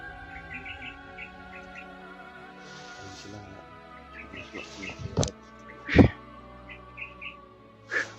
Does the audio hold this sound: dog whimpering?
no